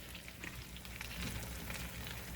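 Food sizzles and crackles steadily in a hot pan, a close, continuous frying hiss with small pops throughout.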